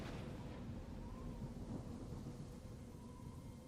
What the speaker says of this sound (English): As we very slowly move through the thunderstorm here.